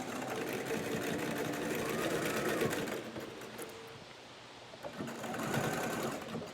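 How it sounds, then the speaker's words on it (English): A sewing machine stitches and backstitches fabric for a face mask, running in a close, rapid mechanical rattle that briefly slows and pauses midway before picking up again. "So I'm going to sew, backstitch, and then keep sewing."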